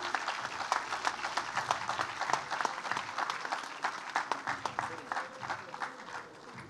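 A crowd gives a round of applause for award winners at a celebration for International Day for Biological Diversity, dense sustained clapping that runs several seconds before gradually thinning out.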